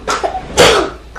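A single sharp sneeze bursts out close up, with a brief breathy intake just before it.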